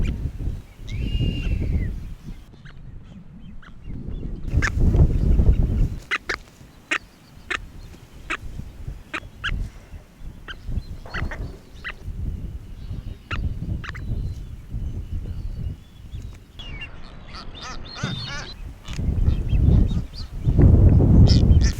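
Frigate bird colony on Isla Isabel in the eastern Pacific: throaty honking calls at the start and end, with a long stretch of rapid, sharp clicking and rattling in between, loud and close.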